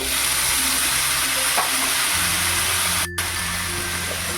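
Prawns for butter garlic prawns fry in a pan with garlic, a loud, continuous sizzle with stirring scrapes that dips briefly near the end.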